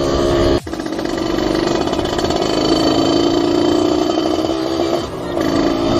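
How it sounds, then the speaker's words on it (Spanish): A Derbi Senda 50cc motorcycle engine idles steadily while warming up, a buzzy, rattling putter, close by, with a brief dip in the sound near the start and end. "lo que vamos a dejar es que la moto se caliente"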